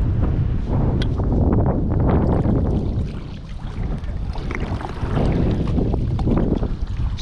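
Wind gusting over a Bonafide 127 fishing kayak out on open water, a steady broadband roar with buffeting against the microphone, loud and continuous with no talk.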